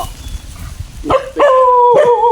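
Rescued stray dogs, brought in from the forest, give a loud, close bark followed by drawn-out whining yelps.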